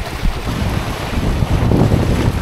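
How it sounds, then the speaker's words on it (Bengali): Cyclone Remal's storm wind roars over a river at Rajbari amid heavy rain and big waves, a loud, continuous rumble buffeting the microphone close up with no voices. "প্রচুর ঝড় বৃষ্টি হইতেছে"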